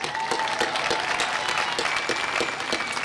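Brief burst of audience applause at a university graduation ceremony, dense clapping from a crowd at a steady level for a few seconds.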